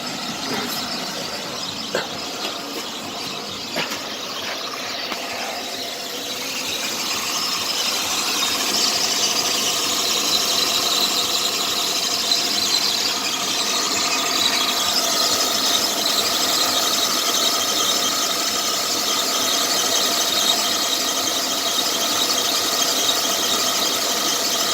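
A Chevrolet Impala engine idles close by while a worn pulley or belt tensioner gives off a persistent high squeal. The squeal holds steady throughout and grows slightly louder after the first few seconds.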